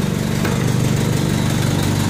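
A Willys CJ3B jeep's original Hurricane F4-134 four-cylinder engine idles steadily just after a cold start, a loud, close, even low throbbing with a busy mechanical clatter and no talk.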